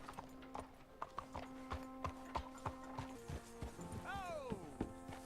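Horse hooves clip-clop in a steady rhythm in the video game Red Dead Redemption 2, fairly faint and close, with a whinny rising near the end and voices talking over it.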